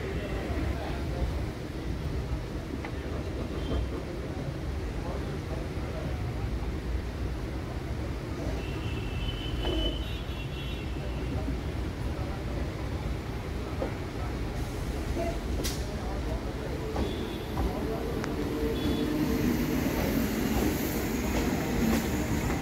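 A Bangaon local train runs past along the Ganges bank near Prinsep Ghat in Kolkata, a continuous rolling rumble with clattering wheels and occasional metallic squeals, faint voices audible beneath.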